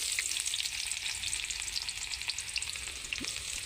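Garam masala spices sizzle in hot oil with a dense, steady crackle that stays close and fairly loud throughout, with no voices.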